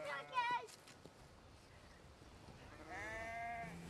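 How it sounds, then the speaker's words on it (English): Sheep bleat during herding, a loud close bleat at the start and another drawn-out call near the end, with quieter farmyard sounds between. "herding sheep"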